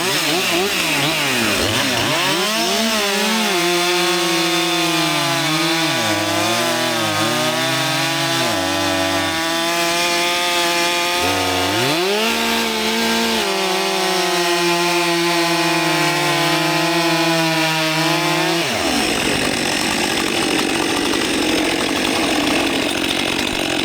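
A Husqvarna 564XP or Stihl 400C chainsaw roars close by as it cuts through wood, the engine pitch dropping and rising under load for about twenty seconds before falling away to a rough idle.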